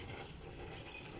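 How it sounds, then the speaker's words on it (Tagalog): Water runs steadily from a tap in a home kitchen, a continuous close hiss with no talking. "Kukuha po tayo ng tubig dito sa aming gripo."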